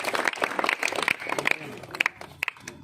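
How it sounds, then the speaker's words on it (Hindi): An audience at a Hindi-language award gathering for Ram Babu Bind claps in uneven bursts, dense crackling applause thinning into scattered individual claps, heard fairly close. "जोरदार ताली हो जाए।"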